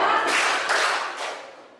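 A classroom group claps a short call-and-response rhythm on a teacher's count, a few dense bursts of hand claps fading toward the end, fairly close and without talk.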